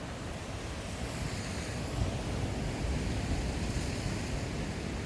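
Sea waves surge against the Ulleungdo island coast under strong, steady wind, a continuous loud roar of surf and gusting air buffeting the microphone throughout, with no voices.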